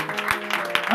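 A church congregation bursts into brief, dense applause, with clapping that rises in quick swells and overlaps with voices.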